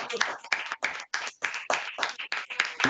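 A church congregation claps together to acclaim the Lord, with sharp, closely spaced hand claps forming a steady, lively rhythm, and voices blend in underneath.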